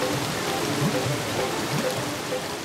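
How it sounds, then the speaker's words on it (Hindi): Rushing water of a waterfall in a cartoon jungle, a dense steady roar of falling water that stays loud and even throughout, with a few faint tonal chirps mixed in and no speech. "ये आवाज कैसी है? हम झरने की तरफ बढ़ रहे हैं।"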